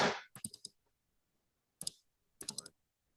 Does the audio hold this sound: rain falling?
no